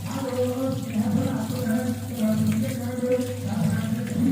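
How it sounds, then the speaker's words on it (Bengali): Tap water runs steadily into a sink while a fish of about 1.5 to 2 kilos is washed for cooking; a continuous close splashing flow with faint voices underneath. "মাছটাকে আমি এখন ধুয়ে নেব"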